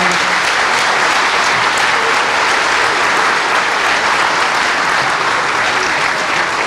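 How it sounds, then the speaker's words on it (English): An audience at a second grade school concert gives a round of applause for teacher Mrs. Weaver, a dense, steady wash of many hands clapping at once, loud and continuous for several seconds. "I'd like for everybody to just give her a round of applause."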